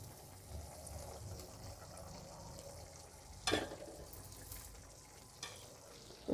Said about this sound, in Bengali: পেঁয়াজ পাতাটা মিশিয়ে দেবো